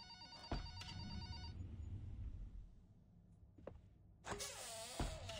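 A telephone rings in the horror game The Bloody Ink, with a repeated electronic bell that sounds in short bursts over a low background hum and returns louder toward the end.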